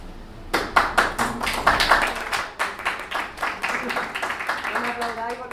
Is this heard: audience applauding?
yes